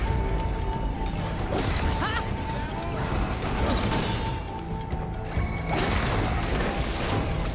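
Robotic machine creatures in Horizon Forbidden West clank and whir, with ratcheting metallic gears, servo whines and heavy impacts forming a loud, busy mechanical din throughout.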